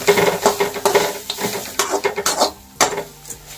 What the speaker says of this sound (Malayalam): എന്നിട്ട് നന്നായിട്ടൊന്ന് ഇളക്കാം